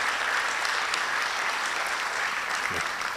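Sustained, dense applause from a conference audience welcoming an official who opens a Data Science and Artificial Intelligence Conference, a steady wash of many hands clapping at even loudness throughout.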